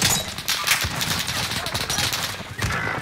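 Rapid bursts of gunfire in the Call of Duty Warzone battle royale, on the Rebirth map, crackle through a busy game mix with overlapping shots, while a voice talks over the action.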